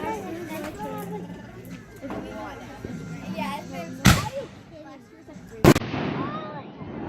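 Fireworks go off at a home display, with two loud sharp bangs standing out over ongoing crackle and pops, as people talk and call out throughout.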